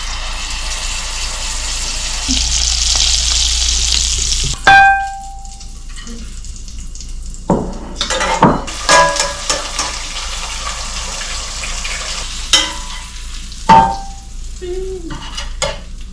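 Steak frying in melted butter in a pan, starting with a loud, steady sizzle that cuts off, followed by intermittent clatters, scrapes and short bursts of sizzling in a quiet tiny-house kitchen.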